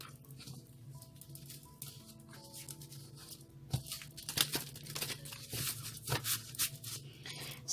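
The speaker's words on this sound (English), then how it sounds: "One more shuffle, they say." Tarot cards shuffled by hand, with soft papery riffling, patter and crinkling close by. The flurries grow busier partway through.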